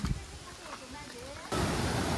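A voice speaks briefly, then a loud, steady rush of a waterfall on a forest stream takes over and roars on without a break.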